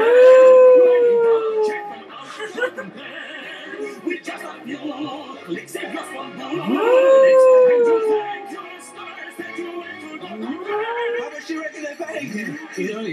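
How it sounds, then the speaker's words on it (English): A dog known from the Go Compare insurance adverts howls loudly and up close in long, wavering, rising and falling howls, repeated several times over background sound. "That was Zulu, the Go Compare dog."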